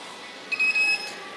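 A multimeter in continuity mode beeps while a probe touches the circuit board of a mobile phone, giving a short, thin, high-pitched tone of about half a second over a low hiss.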